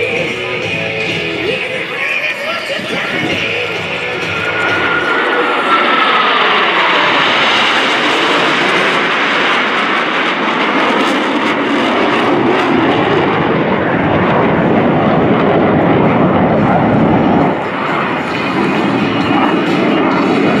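US Navy Blue Angels jets fly past at the NAS Patuxent River air show, making a loud sustained roar that swells and shifts as the aircraft pass, with an announcer faintly audible.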